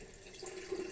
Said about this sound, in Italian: Facciamo riempire un attimino il lavandino con la nostra acqua, come al solito, tiepida,